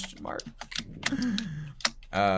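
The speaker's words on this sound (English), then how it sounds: "So if you have been typing furiously on your keyboard" Computer keyboard typing, a quick run of light clicks and taps mixed in with people talking nearby.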